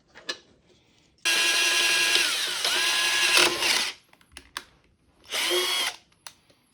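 A power drill bores holes for a mount on a 3D-printed DIY proton pack, with one long steady whining run followed by a shorter second burst, close and loud, separated by small handling clicks.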